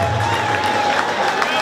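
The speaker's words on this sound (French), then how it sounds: "Acclamation à cette allocution présidentielle, s'il vous plaît." A crowd cheers and applauds after a presidential speech at a Baleng community evening in France, producing a steady, loud wash of crowd noise with a sustained tone running through it.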